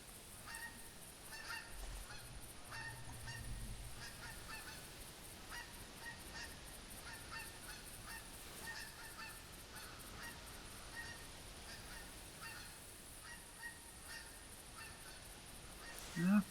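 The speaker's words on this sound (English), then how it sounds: "I hear another flock of geese" A distant flock of geese honking outdoors on a woodland expedition, faint, scattered nasal honks repeating over a long stretch against quiet background ambience, with a brief low murmur of voice early on.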